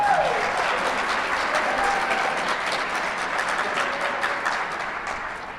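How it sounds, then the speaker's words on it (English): Audience at the opening ceremony of the 39th annual HDSA Convention gives a round of applause for youth fundraisers, full steady clapping from a large hall that gradually softens, with a faint tone at the start. "Thank you for that round of applause"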